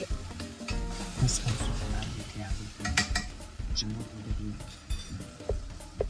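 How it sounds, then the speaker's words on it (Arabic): Tomatoes fry in a pan while being stirred, a constant sizzle with busy scraping and clinking of a spoon against the pan, close and fairly loud; no one speaks. "نقلب شويه حلوين، نفضل نقلب كده لحد ما الطماطم تطرى شويه معانا"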